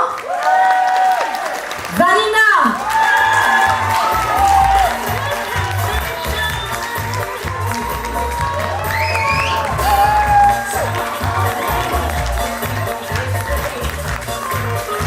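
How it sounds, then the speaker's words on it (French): Audience applause and cheering at the Miss Rock'n'Guinguette 2025 pageant in Harmignies, with a crowd clapping and calling out under a loudspeaker voice and background music, a shouted name rising near the start. "La Miss Rock'n'Guinguette 2025, j'attends les applaudissements"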